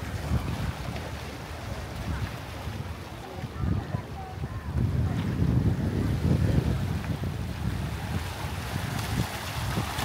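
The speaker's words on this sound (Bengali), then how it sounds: "অসাধারণ বাতাস এখানে" Seaside wind at a port area on the coast of Penang, buffeting the microphone in a continuous low rumble with surf washing in the background, swelling stronger midway.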